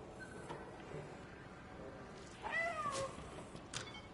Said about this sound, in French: Il faut que je fasse miauler pour qu'il fasse tomber le pot.